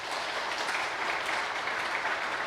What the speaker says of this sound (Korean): 감사한 마음으로 박수 한번 해주시기 바랍니다.